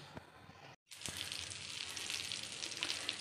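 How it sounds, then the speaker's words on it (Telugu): Tikki patties shallow fry in a little oil, giving a loud, steady crackling sizzle that drops out briefly near the start and then returns stronger and keeps spitting close by, with no speech. "కొంచెం ఆయిల్ వేసి దీన్ని షాలో ఫ్రై చేస్తున్నాను."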